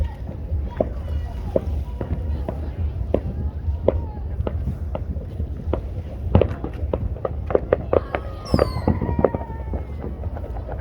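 Scattered sharp pops and bangs of Fourth of July fireworks going off repeatedly at a distance across a river in the USA, over a steady low rumble with people talking nearby.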